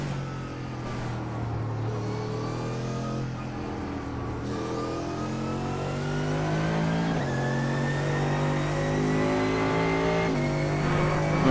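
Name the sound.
Mercedes AMG GT3 engine accelerating at Silverstone in iRacing video game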